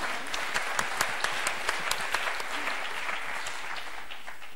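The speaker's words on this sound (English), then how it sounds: "Applause for the young girl." An audience applauds for a young girl, a steady, moderately distant round of clapping with a few sharp individual claps popping out through the first half before it evens out.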